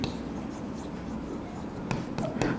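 Chalk or marker writing on a board during a spoken translation lesson, a soft, steady scratching run with a few sharper strokes near the end, close and moderate in level, with no talk over it.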